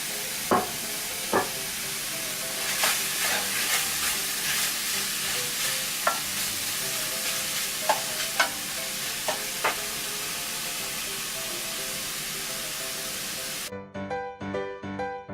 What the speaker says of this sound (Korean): 고기를 볶아주세요.